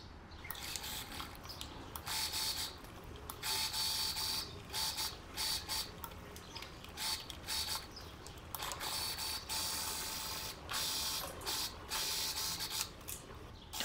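A sewing machine stitches two fabric layers of pajama pants together, its mechanical whir running steadily in bursts that start and stop, close and fairly loud with no voice.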